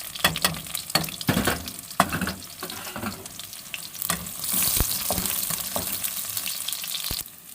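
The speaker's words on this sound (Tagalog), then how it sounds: "Yan, ilagay ng sibuyas." Onions dropped into a pan after golden-browned garlic, frying with a close, bright sizzle and busy stirring knocks early on, settling into a steady hiss with a few clinks, no voices.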